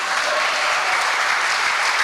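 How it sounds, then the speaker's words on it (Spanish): A church congregation applauds in a steady, dense wash of many hands clapping together, loud and continuous, with no voices over it. "¿Cuántos pueden aplaudirle al Señor?"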